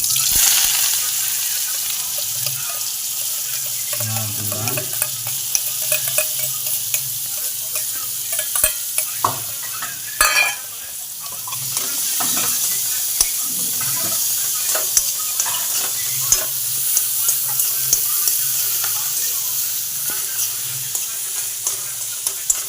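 Oil boiling and frying in a pan, a continuous close sizzle and crackle with scattered spatters and stirring clinks, steady throughout, faint voices occasionally in the background.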